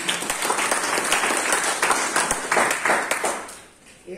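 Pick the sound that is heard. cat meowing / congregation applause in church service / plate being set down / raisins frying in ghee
congregation applause in church service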